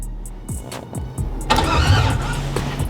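A car engine, wired up without a starter switch, cranks over in a few quick pulses, then catches and settles into a loud, rough running note close by.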